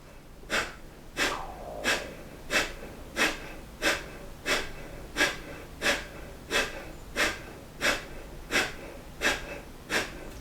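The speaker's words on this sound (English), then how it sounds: "then the breath of fire" Rapid, forceful yoga breath of fire: about fifteen sharp, evenly spaced nasal exhalations in a steady rhythm, close and clear with no talk over them.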